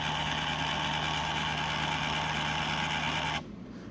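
A Stenner Econ pump runs at 5 RPM, giving a steady, close mechanical hum with a faint tonal whine that stops abruptly just before the end.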